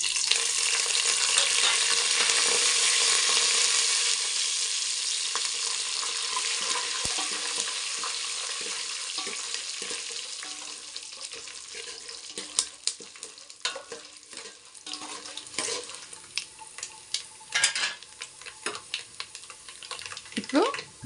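Curry leaves and dried red chillies fry in hot oil with a loud bright sizzle that slowly eases, while a utensil clinks and stirs with scattered scraping taps.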